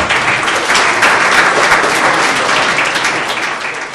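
Loud, dense applause from an audience at a karting season awards ceremony honours a young category runner-up. It rolls on steadily and eases slightly toward the end.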